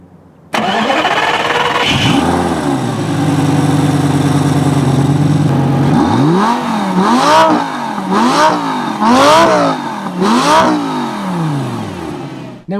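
Lamborghini Gallardo engine and exhaust starting with a loud crank and catch, settling into a steady idle, then several sharp rising-and-falling revs in quick succession, close and loud with no talking.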